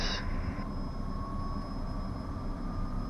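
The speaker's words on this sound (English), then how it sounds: "Takeoff, takeoff. Power's achieved." A Cessna Citation M2 jet rolling for takeoff at full power: a loud, steady, broadband engine roar with a sustained high whine, heard from inside the aircraft with no talking.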